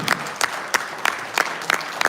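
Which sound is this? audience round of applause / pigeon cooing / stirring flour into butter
audience round of applause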